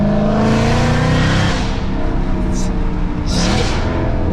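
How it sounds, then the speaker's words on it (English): A loud BMW F80 M3 with catalytic converters deleted roars and drones steadily at close range, with brief higher whooshes as it revs, and a voice is faintly audible under it. "His car is ridiculous loud since he want to delete the cats on his car."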